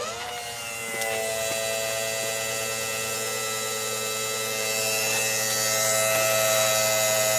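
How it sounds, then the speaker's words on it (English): Pump of a drip irrigation system running with a steady, loud electric drone and buzzing hum, constant throughout with a slight rise in intensity toward the end. "This is going to be loud because I'm going to run the pump."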